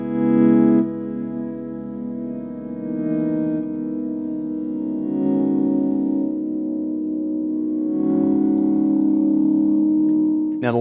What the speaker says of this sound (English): this would probably sound pretty great with volume swell kind of things like this